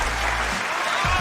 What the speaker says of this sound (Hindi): भाई तालियां कम थी।